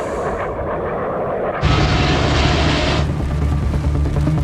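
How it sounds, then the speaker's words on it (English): An overweight Airbus A380 airliner lands on a runway with only about half its brakes working. A loud, dense roar rises abruptly partway through and stays sustained and powerful, with a broad rushing noise of engines and wheels. "The plane touches down, but it's overweight, and only around half the brakes work."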